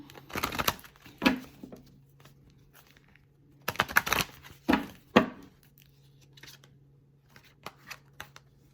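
Tarot cards being shuffled by hand, several quick riffling bursts with quiet pauses between them and a low steady hum underneath, close and fairly soft.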